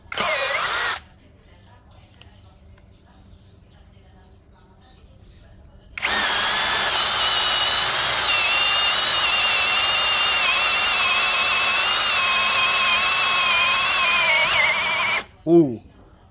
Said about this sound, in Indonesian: Menggunakan mata bor auger 10 mm pada kecepatan nomor 2 untuk menembus kayu mahoni